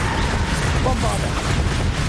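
Bombarda blasting-spell explosions from the video game Hogwarts Legacy, rough booming bursts packed into a dense, loud stretch under a voice calling out spells.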